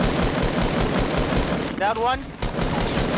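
Dual pistols in Fortnite firing in a rapid, dense stream of close shots under excited voices, with a short pause and a whistling sweep midway.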